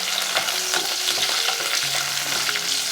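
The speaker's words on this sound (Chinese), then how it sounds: "稍稍翻炒一下" Ginger, scallion, garlic, cinnamon, tangerine peel, star anise and bay leaf crackle in hot oil while being briefly tossed in a wok, a dense close sizzle with quick scraping stirs and no voices.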